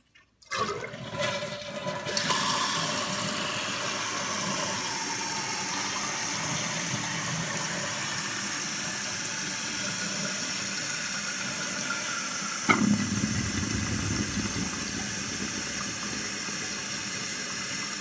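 A toilet flushes after its tank lever has been replaced, starting with a brief handle clunk and a loud rush of water, then settling into a steady refill stream with a small knock partway through.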